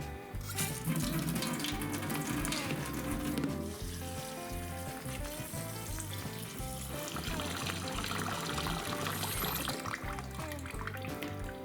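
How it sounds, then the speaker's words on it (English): Tap water running and splashing into a pot of meat as it fills, a steady, faint rushing trickle without a break. "Then I'm just going to fill it with water."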